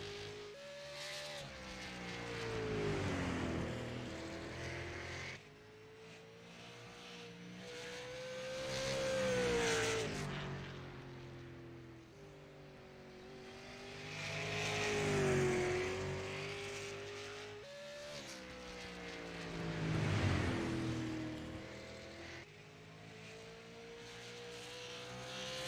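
Race cars lap Five Flags Speedway during a championship night, engines swelling and fading in four loud passes as they roar by, with a steady background drone between passes.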